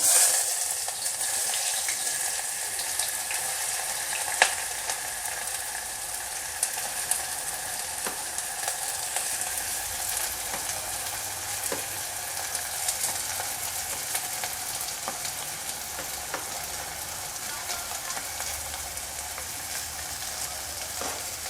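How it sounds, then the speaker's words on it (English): Onion dropped into hot oil for an eggplant dish: a loud, bright, steady sizzle that runs evenly for the whole stretch, with a few faint ticks of spoon on pan and no talking. "Now you can see the oil is getting hot. Now you can add the onion."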